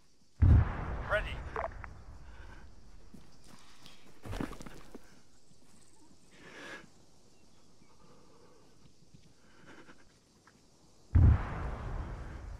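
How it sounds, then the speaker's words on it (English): Two heavy booming blasts open and close the stretch in the military shooter Antistasi, set in the Malden battle, with fainter distant thuds and rumbles scattered between them. "Sounds like just your standard Antistasi spawn and explosions."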